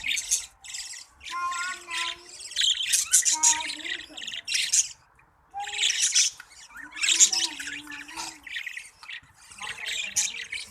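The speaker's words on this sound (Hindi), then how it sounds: "ये ऑस्ट्रेलियन तोते हैं।" Young Australian parrots of mixed colours, kept as a breeding flock in Gujar Khan, Pakistan, squawk and chirp in repeated loud, shrill bursts close by, with short pauses between calls and no talking.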